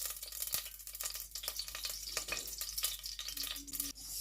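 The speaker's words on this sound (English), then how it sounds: "after preheating the pot, I'm gonna be adding my palm oil, my African palm oil, and I'm gonna leave it to fry" African palm oil frying in a preheated pot gives off a steady, close sizzle with scattered sharp pops and crackles throughout, and no voices.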